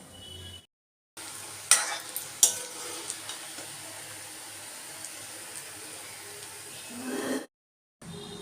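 Gulab jamun balls made from semolina and milk powder refried in oil over low heat, a soft steady sizzle with a few sharp clinks of a utensil, set between short silent gaps.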